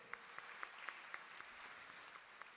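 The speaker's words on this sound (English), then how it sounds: "give all the graduates a well-deserved round of applause" At a Lincoln University Sri Lanka graduation ceremony, the audience claps for the graduates, faint and distant, a soft continuous patter punctuated by a few evenly spaced louder claps.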